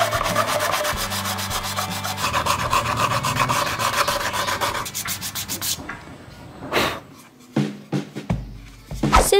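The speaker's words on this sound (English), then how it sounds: "To smoothen out the surface, I used 400 grit sandpaper." A homemade Omnitrix prop surface is smoothed with 400 grit sandpaper: fast, steady rubbing strokes scrape continuously for about five seconds, then slow into a few separate, louder scrapes, close and with no talking.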